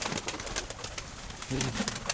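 A pigeon coos softly a few times outdoors, with rustling and faint background noise around it.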